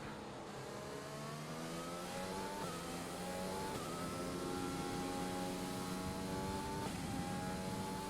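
Formula 1 race car engine in the F1 2020 video game, driving the French Grand Prix circuit in wet conditions, a continuous loud whining engine note climbing in pitch and dropping sharply at several gear shifts.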